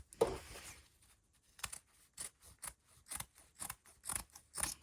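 Scissors trim the corner of a fabric seam in dressmaking, a string of short crisp snips spaced irregularly, close and clear with quiet pauses between cuts.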